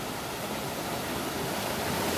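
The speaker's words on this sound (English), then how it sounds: "is where the Upper Furnace Pool empties and goes down into the watercourse" Water from Upper Furnace Pool in Coalbrookdale pours down into the Coal Brook, a steady, even broadband rush like a small outfall or weir, close and constant throughout with no voices.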